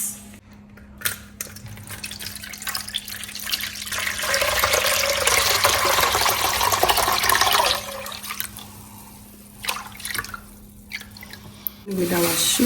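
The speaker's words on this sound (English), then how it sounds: "We'll go in with our tamarind juice." Tamarind juice for a spicy West African rice drink poured into a container, a rushing liquid stream that builds and runs for several seconds amid clinks and handling noises.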